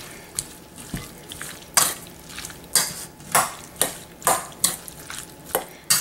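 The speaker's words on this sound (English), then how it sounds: "And I'm just gonna mix it all up." Corn salad seasoned with salt and black pepper is stirred in a bowl, with a regular run of wet clinks and scrapes about every half second, close and fairly loud, with no talking.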